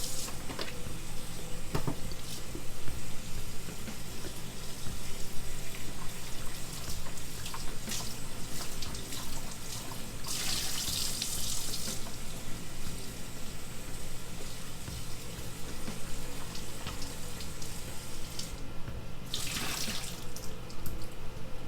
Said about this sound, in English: we're just going to rinse them all off,